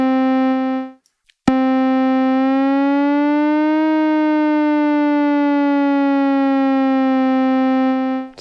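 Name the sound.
synthesizer glide (portamento) between notes, Nikolozi Mela 5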